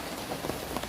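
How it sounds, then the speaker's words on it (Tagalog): Rain falls steadily on a surface, a close, even hiss of drops with a few slightly louder patters. "Ulan, no? Maulan."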